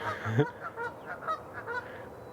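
Geese beside small goslings give a short burst of honks, one loud nasal call up front, then fainter repeated calls outdoors at a marsh.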